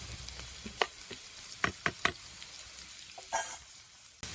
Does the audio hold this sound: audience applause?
no